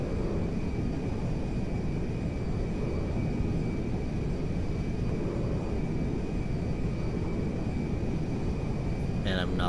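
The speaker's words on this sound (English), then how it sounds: "I got the jet." A jet airplane engine in the GTA V video game makes a constant, even roar with a thin high whine running through it, sustained for about ten seconds at moderate volume.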